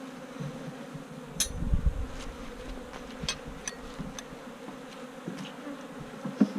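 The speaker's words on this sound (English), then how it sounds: "good amount of bees in here" Honeybees in a newly installed hive give a soft, steady buzz close by, with a few handling knocks and clicks over it and no talking.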